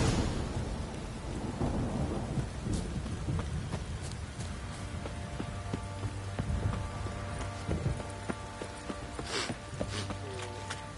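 Heavy rain pours steadily during a thunderstorm in The Witcher 3, with deep rolling thunder at the start and continuing as a dense, close wash of noise; there is no speech.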